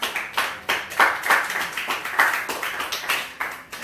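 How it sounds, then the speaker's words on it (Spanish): A church congregation claps together in a steady rhythm, about three sharp, unison claps per second that repeat evenly and stand out clearly, with no talking over them. "dale un aplauso al Señor Jesús"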